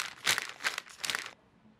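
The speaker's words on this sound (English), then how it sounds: "Now fold down the top of your bag" A pastry bag being folded down at the top gives three quick crinkling rustles close by, then quiet.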